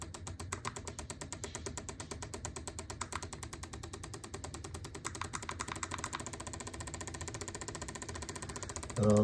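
A diesel heater fuel pump ticks at 15 hertz, a fast, regular mechanical clicking that stays close and steady throughout, with a voice briefly at the end.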